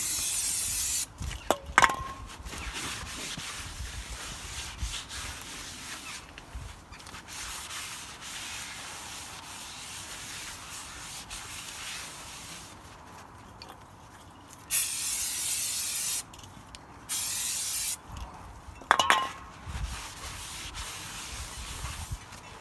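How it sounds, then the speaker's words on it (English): Brake cleaner sprayed onto a greasy new Audi A6 C7 front brake disc, several hissing bursts of varying length separated by quieter gaps, close and fairly faint against background noise. "you want to hit them with some brake cleaner."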